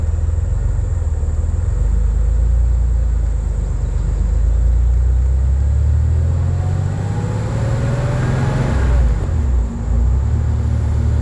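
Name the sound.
1994 Porsche 964 911 Speedster engine revving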